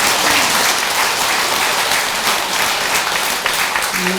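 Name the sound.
audience applause at Buddhist temple service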